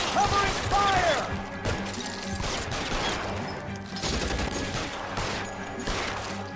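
Gunfire in the detective game L.A. Noire: repeated bursts of shots over a busy game soundscape, with a voice briefly heard over the shooting.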